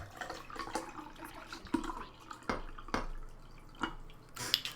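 Water poured for a drink, heard as irregular drips and splashing trickles that come in uneven bursts close by, with no one talking.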